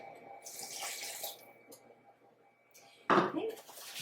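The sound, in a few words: pouring hot water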